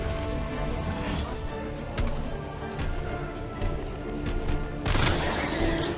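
Gunfire in Resident Evil 2: a string of sharp shots with uneven spacing over a steady game background, ending in a louder burst near the end.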